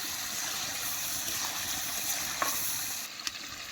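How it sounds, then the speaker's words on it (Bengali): Spice masala with chilli paste and a little water is sautéed in oil for chicken kosha: a soft, steady sizzle with faint stirring scrapes and a few light clicks. "এবার সুন্দর করে কষিয়ে নেব"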